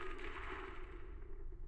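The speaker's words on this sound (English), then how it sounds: "Deafening gunfire grows louder, gradually drowning out all the voices." Sustained machine gunfire from the video game Zenless Zone Zero, a dense continuous roar of rapid shots at steady loudness filling the whole stretch.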